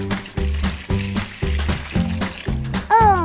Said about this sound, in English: We'll add some more water.